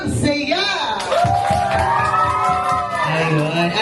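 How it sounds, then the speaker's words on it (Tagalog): Crowd of guests shouting and cheering together as an icebreaker at a christening party, a loud sustained burst of whoops and yells filling the room with voices mixed in. "Ngayon naman po, lagyan po natin ng sigawan."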